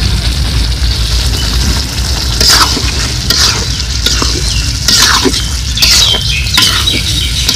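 Chicken sizzles steadily in a pan while being sautéed for biryani, with loud scraping stirring strokes cutting in every second or so over the constant frying hiss.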